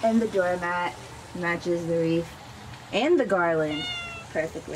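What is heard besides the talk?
cat meowing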